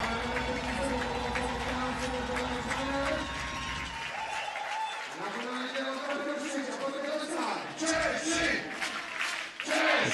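Spectators at a beach volleyball match in Ostrava, Czech Republic, cheer and shout loudly and continuously, their roar swelling and dipping with scattered applause throughout.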